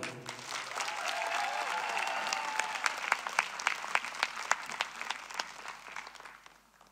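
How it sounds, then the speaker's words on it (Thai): A concert crowd applauds to welcome a singer to the stage. Cheers and dense clapping build, then give way to sparser individual claps that fade out. "พี่ๆครับปรบมือต้อนรับ"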